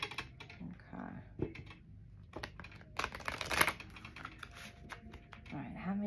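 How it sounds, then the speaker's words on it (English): Oracle cards shuffled by hand in a deck, giving a run of soft, uneven riffling and slapping bursts with a few sharper flicks, fairly close and moderately quiet, with faint talk in the background. "I'm not perfect at shuffling, but I am shuffling them"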